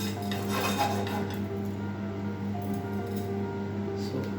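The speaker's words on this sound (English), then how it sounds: "Now let's start dry roasting our stuff." A metal pan clinks and scrapes as whole spices are dry roasted in a home kitchen for butter chicken gravy, with light stirring taps over a steady background hum, fairly quiet.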